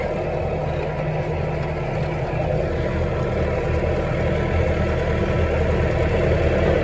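A steady tractor engine drones continuously at a constant pitch while haying, loud and close, with a low rumble and no pauses.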